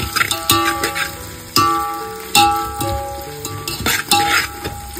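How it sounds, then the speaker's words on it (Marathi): Onions frying in hot oil in a cooking pot for oyster biryani, a close, crackling sizzle broken by several sharp stirring clanks of a utensil against the pot. "इकडे टोपामध्ये आपण तेल घालून घेतलंय आणि याच्यामध्ये कांदा घातलाय."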